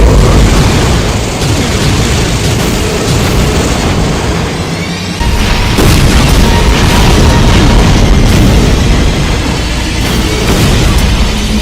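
A Doom mod video game boss unleashes explosive projectile shots, a loud, continuous wall of booming blasts and rumbling detonations with only a momentary dip partway through.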